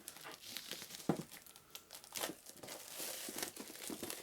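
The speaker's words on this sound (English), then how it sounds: "Let's get the cellophane off so we can get a better look at it." Cellophane wrap is torn and crumpled off a sealed 2002 Parker Brothers Risk: Lord of the Rings board game box, a close series of irregular crinkling and tearing bursts with a few sharper snaps.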